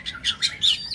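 A black-throated laughingthrush gives a quick series of three or four bright, high chirps, close and clear over a quiet background.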